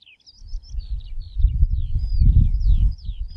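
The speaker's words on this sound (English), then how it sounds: "Can you shut up, bird?" Several high, quick bird chirps and short whistled calls come from nearby, repeating irregularly over a low rumbling background noise.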